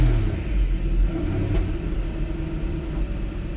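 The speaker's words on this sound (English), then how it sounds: "It's okay for your engine to kind of like go up and down a little bit when it starts." A Mercedes S600 W140 coupe engine rumbles steadily at idle just after starting, a low continuous drone with slight unevenness and one faint brief tick midway, close and with no voices.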